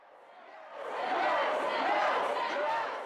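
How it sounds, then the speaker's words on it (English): Large crowd of people packed inside the Minnesota State Capitol outside the House chamber, for and against same-sex marriage, a dense steady roar of many voices swelling louder after the first second. "crowds of people on both sides of the issue packed the state capitol to make their voices heard"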